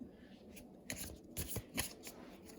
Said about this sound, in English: I'm going to use these cards to shuffle,